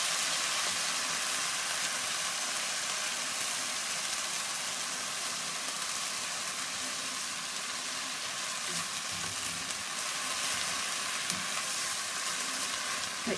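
Mushroom and spinach risotto sizzles steadily in the pan while being stirred, a constant close crackle and hiss with soft scraping and no speech.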